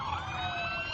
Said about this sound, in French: le gouvernement organise un immense convoi de police, toutes sirènes hurlantes